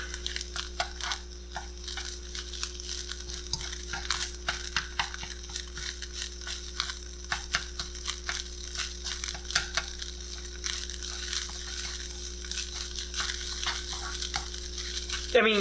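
Crab fried rice with claw meat gets stirred in a pan: scraping and crunchy tossing strokes come in an irregular rhythm over a soft steady sizzle, close to the mic.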